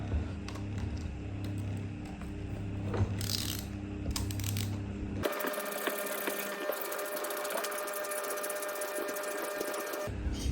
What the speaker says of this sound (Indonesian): Untuk lepasnya cukup menggunakan obeng plus atau obeng kembang.